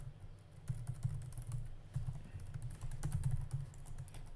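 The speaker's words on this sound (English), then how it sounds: "Let's type a little slower." Fingers type on a computer keyboard in a continuous patter of fast, light key clicks, close by and alone, with occasional louder strikes.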